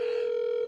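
A steady electronic ringback tone on a telephone call, one loud continuous beep held for under a second before cutting off.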